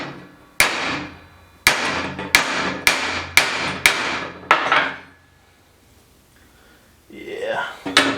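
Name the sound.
blacksmith hammering a rivet on a hand forged pot rack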